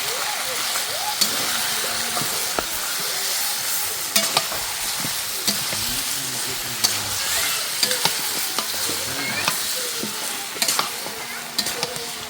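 Chicken pieces frying in a pan while being stirred, a steady sizzle under repeated scrapes and knocks of a spoon against the pan, with faint voices in the background.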